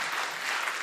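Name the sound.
audience applause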